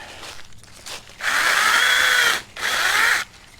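A Sainlogic 21V battery mini chainsaw used for pruning in a yard whines at high revs in two bursts, a longer one then a shorter one, with brief quieter gaps and no talking.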